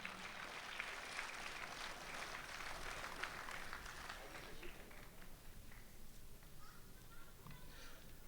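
An audience at a mushaira and kavi sammelan in Dubai claps to welcome a poet. The applause is a faint, distant wash of clapping that thins out after about four seconds.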